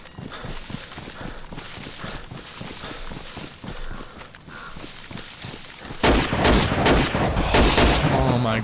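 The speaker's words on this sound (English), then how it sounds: "they knocked it out of the park with gunshot audio" Gunfire in the survival video game DayZ on the Chernarus map, with a burst of loud, dense shots dominating the last couple of seconds after a stretch of quieter, busy game sound with rhythmic footstep-like clopping.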